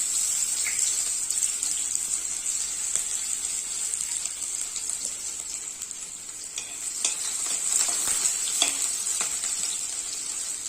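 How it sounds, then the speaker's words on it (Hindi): Onions and cumin fry in hot mustard oil in a wok, a continuous bright sizzle with scattered clicks and scrapes of a stirring spoon, moderately close and steady throughout. "प्याज को लाल होने तक भून लेंगे हम।"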